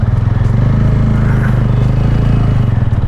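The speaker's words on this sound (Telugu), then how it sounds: "Thampi exhaust, good exhaust" A white TVS Ronin Agonda Edition motorcycle from 2026 idles and runs with a thumpy exhaust, a loud close low pulsing beat steady throughout with no talk.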